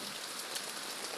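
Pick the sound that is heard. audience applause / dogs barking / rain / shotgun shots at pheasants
rain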